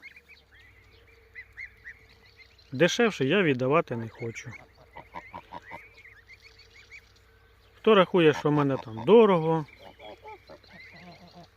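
Loud honking bursts from geese come in two rough clusters, mixed with someone talking steadily throughout.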